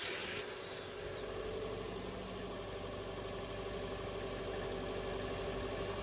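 A Subaru with a loss-of-power fault idles steadily right after start-up, with a pressure gauge fitted to the exhaust. The engine runs as a close, even, continuous rumble from start to finish.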